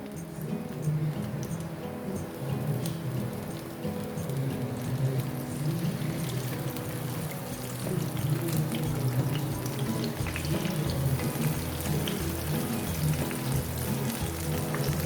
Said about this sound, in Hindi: हमने पैन में घी हल्का सा गरम कर लिया और अब हम इसको बहुत ही आहिस्ता के साथ घी के साथ हम इसको फ्राई कर लेते हैं।